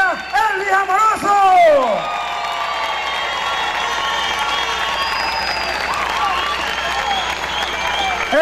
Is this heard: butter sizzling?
no